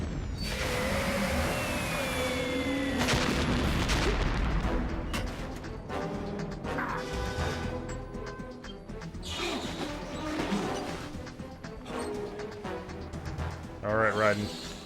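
Explosions and gunfire from Metal Gear Solid 2 boom and crash in bursts, loud and dense at first then continuing at a lower level with scattered impacts and game sounds.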